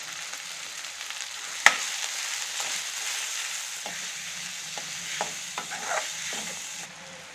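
Onion pieces frying in a pan for a spicy prawn fry, a soft continuous sizzle with a sharp utensil knock early and scattered light stirring taps, no voices.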